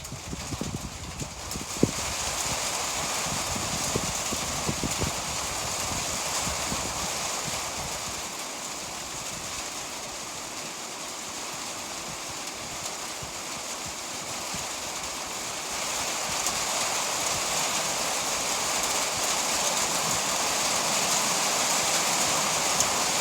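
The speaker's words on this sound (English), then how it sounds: "it also looks like there's rain coming" Steady, dense hiss of rain pattering on a greenhouse roof, continuous and fairly loud, with a few faint knocks near the start.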